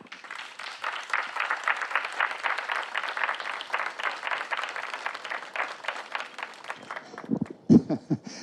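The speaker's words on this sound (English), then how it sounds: "I think that should get a round of applause for all your hard work" An audience at a fifth-grade moving-up ceremony applauds the students, a lively, sustained round of clapping that fades out near the end as a voice begins to speak.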